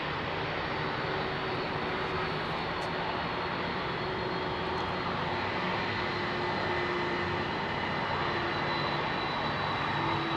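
Boeing 767 jet airliner rolling for a night departure at Heathrow Airport, a loud steady roar of engines holding constant throughout with no talk over it.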